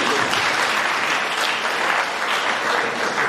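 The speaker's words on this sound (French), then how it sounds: "il faut vous applaudir." An audience at a public conference on peace and national reconciliation in Côte d'Ivoire bursts into loud, continuous applause, a close, dense roar of clapping with faint crowd murmur underneath.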